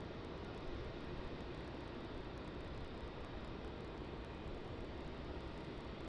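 A Boeing Dreamliner landing at Melbourne Airport after a long flight from LAX, heard as a continuous broadband jet roar, fairly distant and steady, with no voices.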